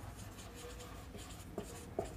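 Pen writing by hand in a notebook while noting C code, a faint soft scratching under room hum with two small taps near the end.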